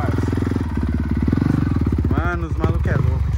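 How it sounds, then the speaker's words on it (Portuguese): Motorcycle engine running close by with a loud, rapid pulsing putter that holds steady, then briefly revs and shifts pitch, with voices partly mixed in. "Pegou a moto aqui."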